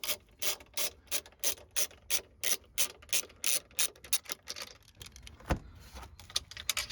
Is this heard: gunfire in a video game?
no